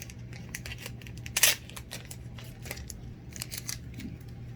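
Scissors or a blade cut through smart vinyl in a series of quick, faint snips and crisp rustles, with one louder burst of crinkling partway through.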